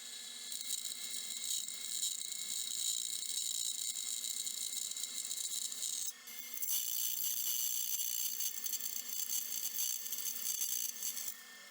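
A high-pitched drill whirs steadily at close range, drilling holes in a cleaver handle forged from a truck spring, pauses briefly midway, then runs on again, with faint rattling from the work.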